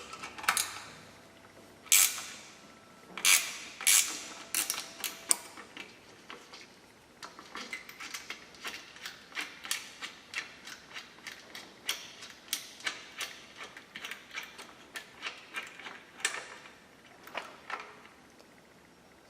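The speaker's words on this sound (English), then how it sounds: "We're going to take our 10mm ratchet wrench and remove this bolt here." A 10mm ratchet wrench backs out a bolt during a Barton Hybrid 3 install, giving off a long run of quick, light clicking bursts that are louder at the start and then settle into faint, irregular ticks.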